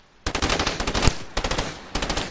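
A burst SMG fires in the Fortnite video game as three rapid, sharp bursts of gunfire, each a quick rattle of shots separated by brief gaps, loud and close.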